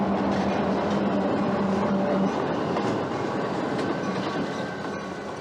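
A train rumbles past on the tracks in a loud, steady roar with rhythmic wheel clatter and a brief hum near the start, easing slightly as it moves away.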